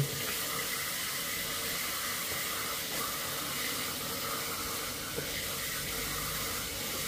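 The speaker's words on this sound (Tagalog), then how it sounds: "Pero bakit parang may tumatagas na tubig dito sa ano?" Water leaking from a portable electric shower, a continuous soft hiss and trickle of running water, faint and steady without pause.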